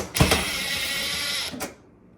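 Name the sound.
removing the last Robertson screw from stove panel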